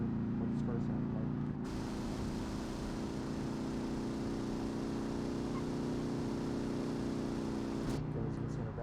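An air-cooled VW Gol engine in BeamNG Drive hums steadily at a constant idle-like drone, loud and close, with a brief shift in tone near the start and end.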